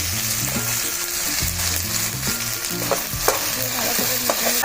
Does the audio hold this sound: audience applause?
no